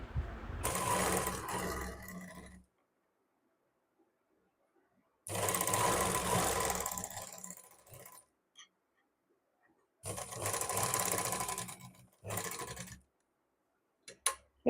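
A sewing machine stitching a finishing strip with lace on fabric, heard as three close, loud bursts of rapid stitching separated by silences, with a few faint clicks at the end.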